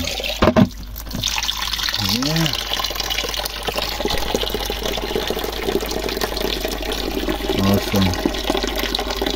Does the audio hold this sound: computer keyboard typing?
no